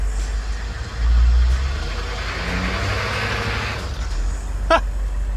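AM General Humvee M998 engine taking throttle off-road with the locker engaged, a low steady rumble swelling briefly into a louder rev, then settling, with a short sharp squeak or clank near the end.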